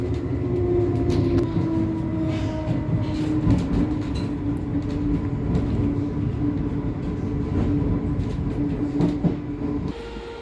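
A Transport for Wales Class 230 passenger train rumbles steadily along with a constant low roar and rattling, heard from inside a carriage, with no voices.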